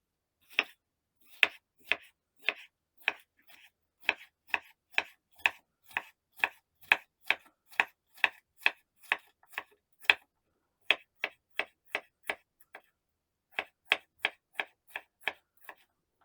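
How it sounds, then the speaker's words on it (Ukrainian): A knife slices a bell pepper into strips on a cutting board, a steady series of crisp, evenly spaced chops close by, with a short pause near the end and no talking. "Якщо залишилось насіння, його прибрати і нарізати перець смужечками."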